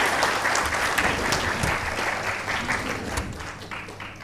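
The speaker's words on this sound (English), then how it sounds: "Let us show our appreciation with a thunderous round of applause to our panelists" An audience at a panel discussion on India's Olympic ambitions applauds the panelists, a broad, continuous wash of clapping heard from some distance that fades slightly toward the end.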